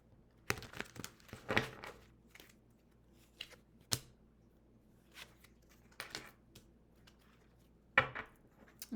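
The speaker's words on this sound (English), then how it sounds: "Let's do one more shuffle." Tarot cards are shuffled and handled in scattered quick bursts of riffling and crinkling, with quiet pauses between them.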